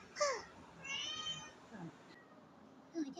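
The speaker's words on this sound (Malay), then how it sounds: "Dia asyik mengiau je." A cat meows several times close by, with drawn-out, wavering cries and a brief pause before a final short call.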